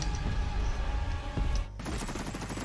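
Rapid sustained gunfire in DOOM Eternal pounds at the Icon of Sin, a dense, loud stream of shots that cuts abruptly into a thinner, crackling rattle of continued firing toward the end.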